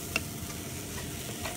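A wok is stir-fried in a home kitchen, with a quiet, steady sizzle and a few faint scraping ticks of a utensil against the pan over a short stretch.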